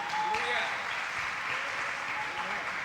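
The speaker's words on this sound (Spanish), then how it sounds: "Fuerte ese aplauso una vez más" Applause from a church concert audience in London greeting a Guatemalan Christian singer, a dense, steady wash of many hands clapping at moderate distance, with a faint voice partly heard through it.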